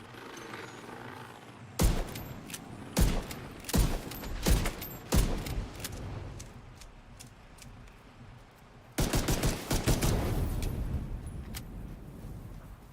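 Gunfire in The Division 2 video game, a series of sharp shots in short irregular bursts that stop for a few seconds, then a second cluster of rapid shots over steady background game sound.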